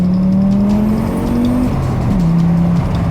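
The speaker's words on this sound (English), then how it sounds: "So this 5-cylinder, it's a legendary motor." A five-cylinder car engine humming steadily, its pitch rising gradually then stepping down as the car shifts, heard close and loud as it drives, with no talk.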